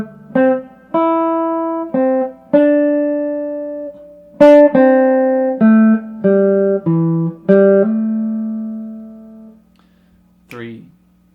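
A short guitar riff of plucked single notes, some slurred together, played clearly and alone with brief pauses, ending with a quick slide.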